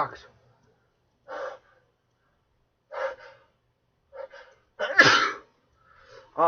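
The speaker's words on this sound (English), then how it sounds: "I don't know why I'm sneezing so much." Several sharp sneezes come close to the microphone, spaced a second or two apart, with quick breaths and gasps between them in an otherwise quiet room.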